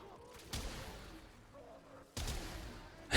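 Gunfire in the video game Warframe: two loud separate bursts of shots, each one sharp at onset and then ringing on, with quieter game sound between them and a final hit at the end.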